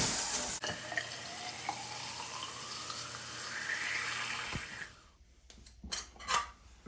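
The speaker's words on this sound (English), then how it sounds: "Let's go ahead and rinse it with hot water." Hot water runs from a tap in a steady, close rush to rinse a clogged Oatey shower drain, then cuts off, followed by a few quiet clicks and handling sounds.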